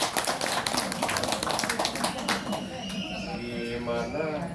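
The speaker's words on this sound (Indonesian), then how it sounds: "Tepuk tangan dulu." An audience at a community neighbourhood event bursts into applause, a brisk patter of claps with a voice talking over it that fades as the clapping tapers off.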